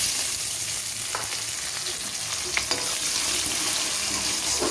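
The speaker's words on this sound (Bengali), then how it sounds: "তেজপাতা ফোড়ন দিয়েছি, আর গোটা কোনো মশলা দিলাম না, পেঁয়াজটা দিয়ে দিচ্ছি।" Onions frying in hot oil with bay leaf for a meat curry, a steady close sizzle running throughout with a few faint stirring clicks and scrapes.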